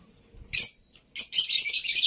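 A new-mutation African lovebird placed in a carrier gives bright, high, close chirps, one short call followed by a rapid run of shrill tweets in near silence.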